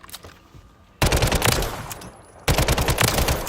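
Uzi submachine gun from the video game Warzone firing in two loud, rapid full-auto bursts, each starting abruptly and running about a second and a half, with a short quieter gap between them.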